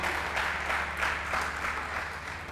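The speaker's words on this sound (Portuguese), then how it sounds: "Dá um aplauso aí." A church congregation applauds during a sermon, giving a short burst of continuous, moderately distant clapping from many people at an even level.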